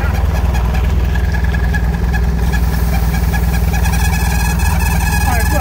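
A 2.2 engine runs loud and close after a spark plug is pulled, its rough, rapid pulsing drone rising and falling as it is revved.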